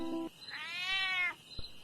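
A blue-eyed cat in a village gives a single drawn-out meow, fairly close and clear, framed by faint background noise before and after.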